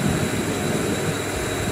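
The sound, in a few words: train at Dadar station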